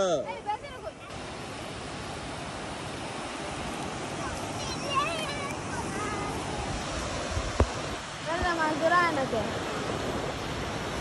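A steady, rushing wash of surf rolling in, with faint voices murmuring in the distance.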